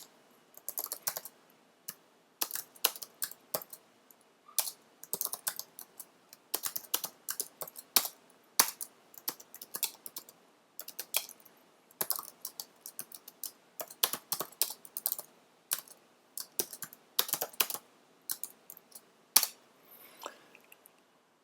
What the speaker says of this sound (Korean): 코드를 입력해 보겠습니다.